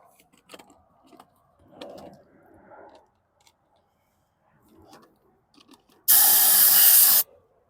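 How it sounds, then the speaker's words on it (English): A sharp, loud burst of compressed air hisses into a tank for about a second, preceded by faint clicks and quiet handling noises. "I'm going to blast out the tank, put a little compressed air in here"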